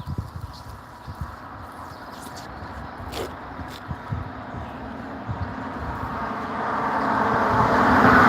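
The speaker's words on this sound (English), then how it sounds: "God, that car was so close." A car on a road beside a magnet-fishing spot approaches with a rising, broadening roar that swells loudest at the very end as it draws near, over a constant background of traffic rumble.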